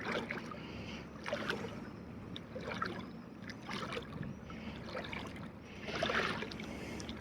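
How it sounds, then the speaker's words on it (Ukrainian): Sea waves lap and splash in irregular surges close by, a soft washing sound with a louder swell near the end. "Мені подобається слухати шум моря."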